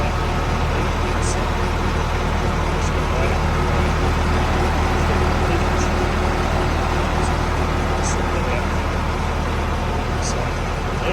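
Hayes 1800 HD Premium flail mower spinning on a tractor's hydraulics, a loud steady mechanical drone with a faint whine running throughout, close by, with a voice talking over it.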